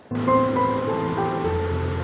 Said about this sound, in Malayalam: നമ്മളങ്ങനെ കുണ്ടർച്ചോല വെള്ളച്ചാട്ടത്തിനടുത്തെത്തിയിട്ടുണ്ട് മഴയുള്ളത് കൊണ്ട് അടിപൊളിയായിട്ടുണ്ട്